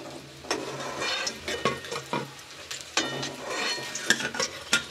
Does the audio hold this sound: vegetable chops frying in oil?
yes